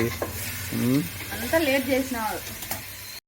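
Food sizzles in a pan while being stirred, soft frying hiss with scraping under voices talking nearby throughout the short stretch.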